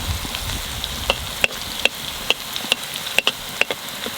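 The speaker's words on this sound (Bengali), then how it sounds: "পেঁয়াজ ভেজে দিচ্ছি" Onions frying in a pan for a Bengali lunch thali, a steady close sizzle broken by sharp ticking scrapes of stirring at a loose rhythm.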